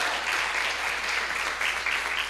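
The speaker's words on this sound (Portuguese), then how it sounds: "Você pode aplaudir a Jesus?" Church congregation applauding, a steady wash of many hands clapping that fills the whole moment at moderate level without pauses.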